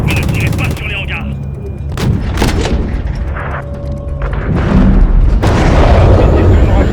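Gunship cannon fire and artillery in Call of Duty Modern Warfare 3 (2023) campaign: loud heavy booms and bursts of gunfire repeat across the scene, with radio chatter and alarm-like tones mixed in.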